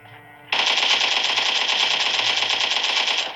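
Automatic gunfire in a battle royale video game at Pochinki rattles in a rapid sustained burst that starts abruptly after a quiet moment and fills the rest of the clip, loud and close with no speech.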